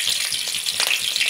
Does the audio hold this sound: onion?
yes